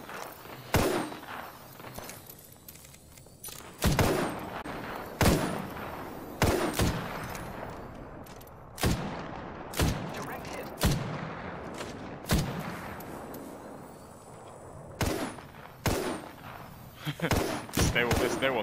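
Video game gunfire cracks out in repeated sharp bursts and single shots, some in quick clusters and others spaced apart, loud and close, with a player talking intermittently between the shots.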